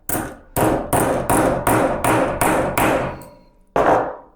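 Sharp metallic hammer strikes on metal being flattened on a Vevor bench vise, seven ringing blows in a quick steady rhythm, a short pause, then one more hit, loud and close.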